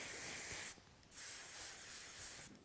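CHI hairspray hisses from a can onto hair in two soft bursts with a brief pause between them, quiet and close.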